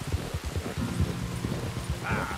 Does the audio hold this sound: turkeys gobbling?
no